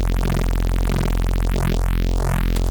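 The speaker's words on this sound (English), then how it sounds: "a frequency shifter splits the signal into two and moves one higher in frequency than the other. That creates these filtery movements in it" A drum and bass bass tone is run through a frequency shifter, playing as a loud, dense, continuous buzzing drone with repeating sweeping, phasing, filter-like movements about every half second and no voices.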